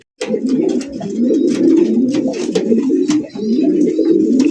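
A pair of fancy racer or golla pigeons coo steadily and up close, their low rolling calls repeating almost without pause over faint background chirps.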